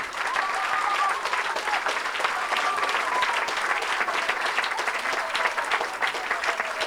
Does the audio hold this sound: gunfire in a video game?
no